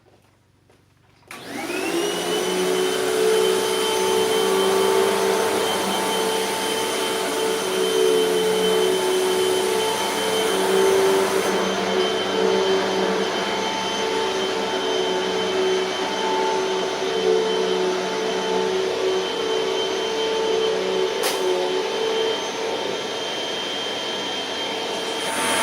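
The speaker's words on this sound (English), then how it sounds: "She knows where I'm going to vacuum next." A Hoover WindTunnel 2 HC Pet upright vacuum cleaner starts up and runs steadily on carpet at close range, a loud continuous whine with a humming motor tone throughout.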